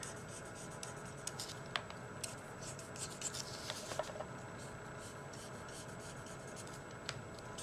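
Coloring pencil or marker shading in the trim of a hand drawing of a large mountain shack, a soft steady scratchy rubbing with a few brief taps, close and quiet, no talking.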